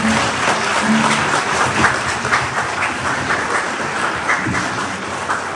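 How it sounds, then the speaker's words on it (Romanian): A concert audience in Boița applauds a singer after a song, dense continuous clapping at a fairly loud level with no talk over it. "Îl aplaudăm foarte."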